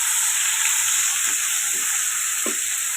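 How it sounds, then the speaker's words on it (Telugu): Ginger garlic paste and coconut fry in hot oil for chicken liver curry, giving a steady loud sizzle with a few soft stirring scrapes, and no talk. "కొంచెం కొబ్బరి పేస్ట్ని మనం ఫ్రై చేసుకుందాం."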